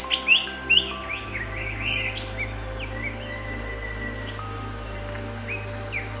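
Borneo rainforest birds chirp and tweet in short bright calls over a steady low hum, several sharp calls early, then scattered softer chirps.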